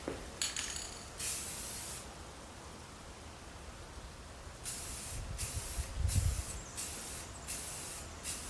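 Bar-thane finish is sprayed onto a live edge bench from an aerosol can in short bursts of close hissing. One long spray comes first, then a quiet pause, then a series of quick pulses.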